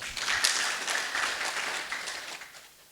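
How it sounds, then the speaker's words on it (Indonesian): Applause from a small audience: a burst of scattered hand clapping that carries on through the clip and tapers off at the end, moderately near, with no speech over it. "Tepuk tangan untuk Yeni"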